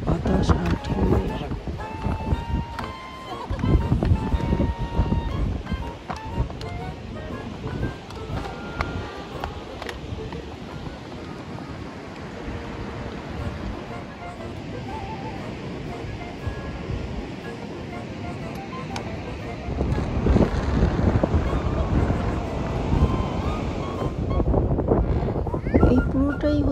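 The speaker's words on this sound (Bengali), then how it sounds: "এখানে যে শোষ শব্দ বাতাস আর ঢেউয়ের" Wind and sea waves roar along the coast at Tintagel, a broad steady rush with gusts buffeting the microphone, surging louder near the end, while a person talks over it.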